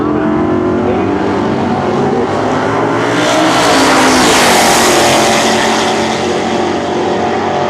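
Drag race cars launch at a quarter-mile meet, among them a '69 Camaro with a 509 engine, a loud, continuous roar of racing engines that swells and climbs in pitch midway through, close and dense with no talk.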